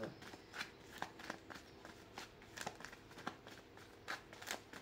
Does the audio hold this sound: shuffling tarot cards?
yes